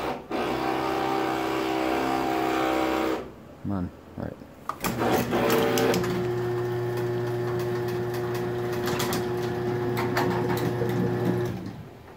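A Craftsman 139.53985D garage door opener on a small door runs with a steady motor drone, stops briefly amid a few clicks and a short remark, then hums again with a clear whine for several seconds before cutting off.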